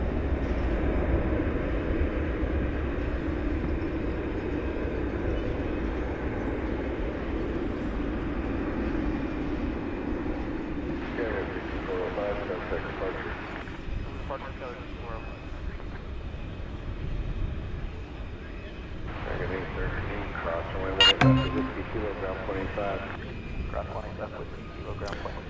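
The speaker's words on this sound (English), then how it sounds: "I think this is the Reno Air livery of American Airlines. Coming in from Newark, Flight 813," An American Airlines Boeing 737-800 in Reno Air livery arrives at DFW Airport at night, a distant jet engine rumble and whine rising and falling beneath nearly constant talking.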